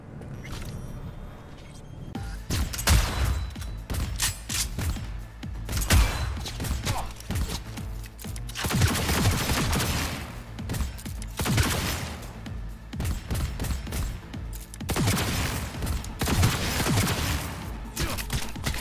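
Bursts of heavy gunfire from a Malorian 3516 pistol in Cyberpunk 2077, loud and close, arriving in clustered volleys separated by short lulls, with no talking.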